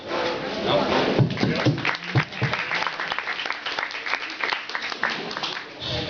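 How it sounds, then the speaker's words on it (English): Audience applause at a talk, sustained clapping from a crowd with voices mixed in underneath. "Big applause to Julian."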